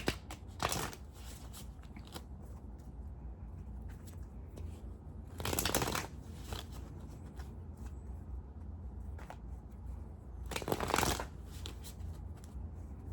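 Three bursts of tarot cards being riffle-shuffled, each a couple of seconds long and close up, separated by a low steady background hum.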